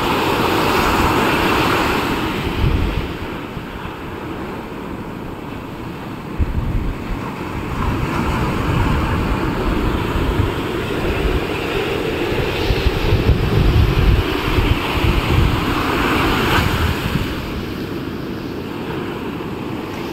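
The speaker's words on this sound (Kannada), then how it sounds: "ಸಮುದ್ರವನ್ನ ನೋಡ್ತಾ ಇದ್ದೇನೆ, ಕಣ್ಣಿಗೆ ಆಹ್ಲಾದಕರವಾದ ವಿಹಂಗಮ ನೋಟ." Sea waves wash in steadily at Kapu Beach in Udupi, a continuous loud roar of surf against rocks with wind noise, swelling and easing over twenty seconds without speech.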